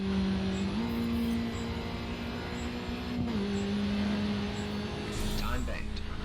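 A race car engine in the Grid 2 racing game drones steadily and loud, its pitch stepping up and dropping back as it shifts through gears, with a brief surge near the end.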